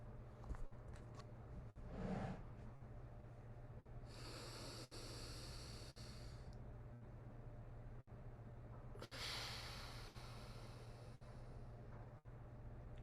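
Alternate nostril breathing during a meditation session: slow, close, hissy nasal inhales and exhales in long drawn breaths a few seconds apart over a low steady hum, with no talk.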